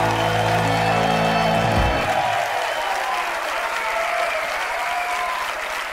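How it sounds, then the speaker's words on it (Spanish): Audience applause for a guest on a Galician comedy stage show: a dense, steady wash of clapping that fills the whole clip at full strength, with a tonal musical sting fading out in the first two seconds. "Un aplauso grande."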